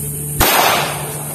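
A single sharp pistol shot from a Taurus G3 handgun fired while zeroing at a range, a loud close crack with a decaying tail and no one talking.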